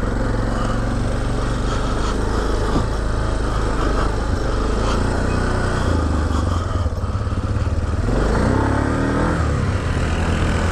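A Yamaha Big Bear 400 ATV engine revs loud and close during a muddy test ride, its rough buzzing drone rising and falling throughout with a sharp throttle surge late on.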